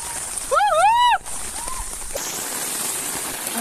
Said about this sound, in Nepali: कस्तो पानी पर्न थालेको